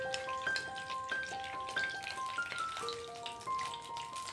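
Pointed gourd pieces fry in hot oil with a soft, continuous sizzle and scattered crackles, heard faintly beneath a light melodic tune.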